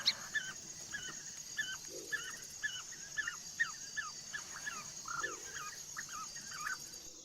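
African wild dogs of a pack in the Maasai Mara feed after a hunt, giving a rapid series of faint, high twittering chirps and whimpers over a quiet background, about two calls a second.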